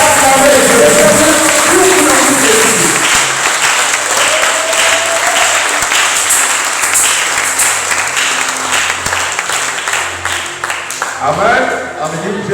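A church congregation applauding to acclaim the Lord, loud, sustained clapping from a large crowd that fills the hall and slowly thins, with voices and shouts mixed in and a person speaking near the close.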